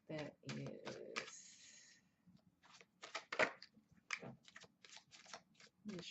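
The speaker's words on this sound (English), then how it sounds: "Let me shuffle again because" Tarot cards riffle and slide in short bursts, close and crisp, with soft pauses between shuffles.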